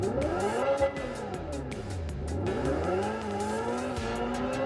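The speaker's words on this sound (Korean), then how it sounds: "그란 투리스모의 사운드를 계승한 에볼루션 모드" Synthetic engine tone from a Hyundai Ioniq 5 N in Evolution mode, rising and falling in pitch like a combustion engine shifting gears, steady and moderately loud with faint tire noise.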